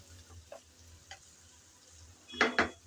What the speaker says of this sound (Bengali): মাছের মাথাটা দিয়ে আবারও নেড়ে চেড়ে কিছুক্ষণ কষিয়ে নিতে হবে